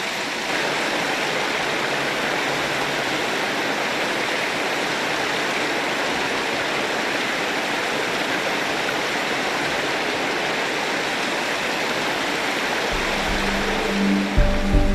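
A Tasmanian mountain stream rushes steadily, a dense, continuous wash of flowing water that stays close and loud throughout with no voices.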